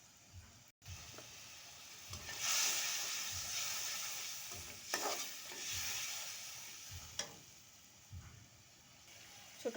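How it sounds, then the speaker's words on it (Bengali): Spices fry in oil for a spicy Bengali small-fish curry with brinjal, making a faint, even sizzle with occasional soft stirring scrapes, quiet and close, with no voices. "মশলাগুলো ভালোভাবে তেলে ভেজে নেব।"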